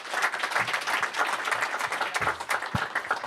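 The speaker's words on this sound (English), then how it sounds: "So let's give our panel a round of applause for a great session today." Applause from the audience for a venture capital panel, a dense, steady crowd clapping that fills the room and continues without a break.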